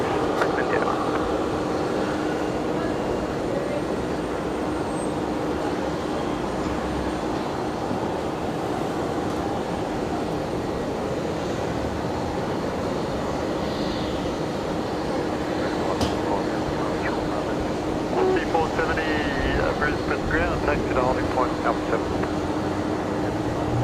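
Airliner at Brisbane Airport, a steady broadband roar of jet engines that holds at a constant loud level for the whole span, with outdoor wind noise and faint voices mixed in.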